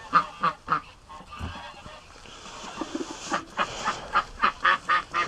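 Geese honk and ducks call in repeated bursts, nearby outdoors, with rhythmic honking picking up strongly toward the end.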